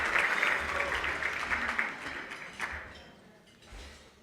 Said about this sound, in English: Thank you for that round of applause on behalf of Charlotte